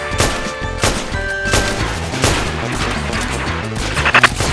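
Rapid gunfire from the online video game Metal Gear Online, with dense overlapping shots and bursts that roll on continuously, loud and close, with no voices over it.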